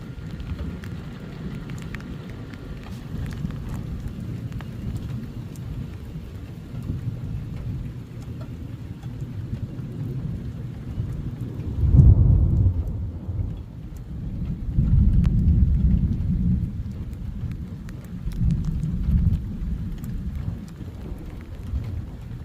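A thunderstorm sound effect of steady heavy rain with deep rolling thunder that swells midway and rumbles again later, loud and continuous with no voices.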